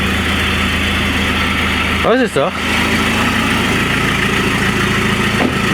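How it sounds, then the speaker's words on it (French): Citroën C5 engine running with no exhaust fitted during pre-inspection maintenance, a loud continuous mechanical drone with a brief sweeping rev rise and fall partway through, while someone speaks briefly nearby. "Jusqu'à 4500 tours minute, sans échappement, le moteur il peut monter"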